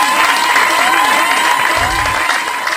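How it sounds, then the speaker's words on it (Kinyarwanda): Warm crowd applause for Arthur at a comedy show, dense steady clapping mixed with some cheering and voices, loud and close, thinning slightly toward the end. "Amashyi menshi cyane kuri Arthur."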